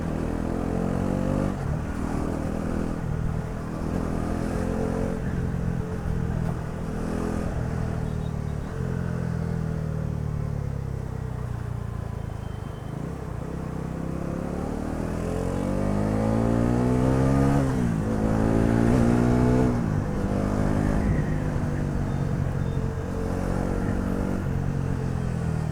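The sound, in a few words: Bajaj Pulsar NS400Z motorcycle accelerating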